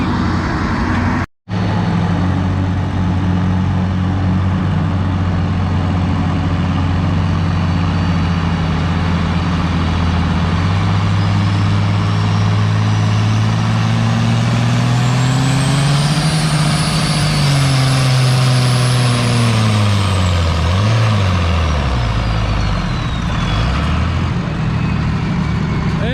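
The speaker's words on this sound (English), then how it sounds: "That's the Oliver 1800 of the Cummins swap." Oliver 1800 tractor with a swapped-in Cummins diesel engine runs loud and close at a vintage tractor pull, a sustained heavy drone that rises in pitch as it pulls, then winds down near the end.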